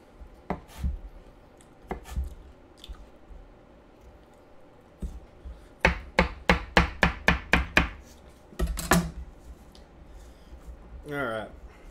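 Knife slicing a pear for salad on a cutting board, a few spaced cuts, then a quick run of about eight crisp rhythmic slices followed by a few more, with a person talking in between.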